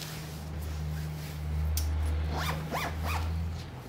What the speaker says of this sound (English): Closing the zipper.